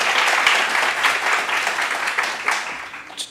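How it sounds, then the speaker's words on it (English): An audience at a university optometry research presentation claps in a lively round of applause that is loud at first and then gradually thins and fades toward the end. "Let's give them a round of applause."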